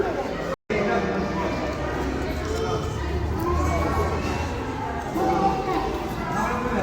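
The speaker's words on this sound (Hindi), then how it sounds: "देखो भीड़ तो है देखो अभी थोड़ी सी" A crowd of visitors mills about at Chittorgarh fort, a continuous, fairly loud babble of many voices, children among them, with footsteps and movement close around.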